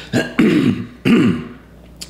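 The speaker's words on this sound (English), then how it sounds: "I'm still a little under the weather, so clearing my throat." Two loud, rough throat clearings in quick succession, close up, followed by a brief faint sound and quiet.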